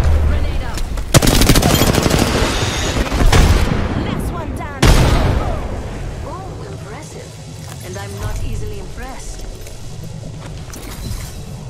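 Heavy automatic gunfire in a battle royale shooter: loud close bursts of rapid shots with sharp booms, then fading to sporadic distant fire as voices talk over the action.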